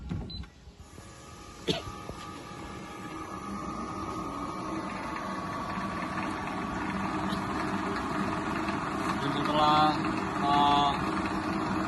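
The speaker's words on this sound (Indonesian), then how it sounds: "untuk pemisah biji kakao dari lendirnya pakai motor 1000 rpm" A 1000 rpm electric motor drives a cocoa bean pulp separator, a steady mechanical hum slowly building in level, with a sharp knock early on and a couple of brief beeps near the end.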